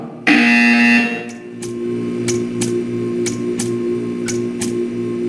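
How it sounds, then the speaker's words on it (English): A loud buzzer from the video game Portal 2 sounds for about a second, followed by a series of sharp, evenly spaced ticks over a low background hum. "You will hear a buzzer."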